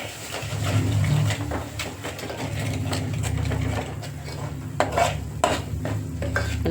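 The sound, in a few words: stirring and sautéing chicken with masala in a pan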